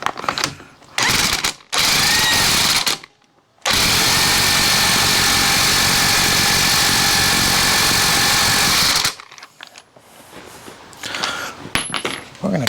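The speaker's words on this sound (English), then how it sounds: "A lot of torque with the electric impact." Electric impact wrench tightening a compensator sprocket on an Evo Sportster chopper primary drive, two short bursts then a long loud rattling hammering run of about five seconds, followed by quieter clinks.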